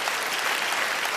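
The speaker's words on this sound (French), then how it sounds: "Vous pouvez vous applaudir." Dense, steady audience applause at a comedy gala fills the whole moment, many hands clapping loudly and evenly with no pauses.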